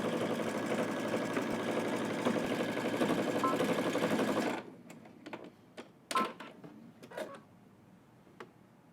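A sewing machine runs steadily along a 5/8-inch seam on a zipper hoodie for several seconds, then stops, followed by a few brief clicks and handling sounds.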